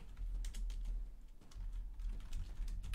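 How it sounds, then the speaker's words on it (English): Rapid clicky typing on a computer keyboard, a dense run of sharp clacks with a brief pause midway, close and fairly loud with no talk. "you can hear us clacking on the clicky clacky keyboard from down the street"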